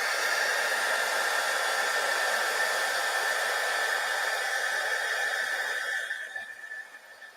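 A heat embossing tool blows steadily while heating glue, a loud whooshing hiss with a constant whine that holds for about six seconds and then tapers off as it is switched off.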